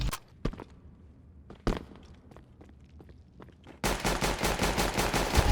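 Gunfire in the game CS:GO: a few isolated sharp shots over quiet footsteps, then a sudden loud sustained burst of rapid automatic fire that fills the last couple of seconds.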